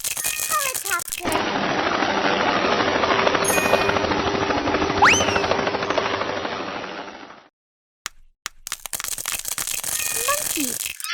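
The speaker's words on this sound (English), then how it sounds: "Helicopter." A helicopter sound effect plays as a steady, loud rotor chop for about six seconds, with a brief rising whistle partway through and other short effects before and after.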